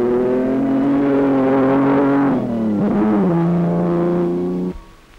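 A Frazer Nash racing a stage of the 1953 RAC Rally in Wales roars close by, its engine pitch holding high, dipping briefly as it shifts, then pulling again before cutting away abruptly.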